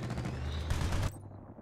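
Rapid gunfire in the Battlefield Bad Company 2 video game, a dense burst of shots lasting about a second before cutting off abruptly, loud and close, followed by a quieter tail.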